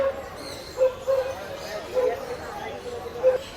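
Large dogs at a National Livestock Week exhibition let out several short, high whimpers and yips at uneven intervals, fairly close, with a busy background murmur.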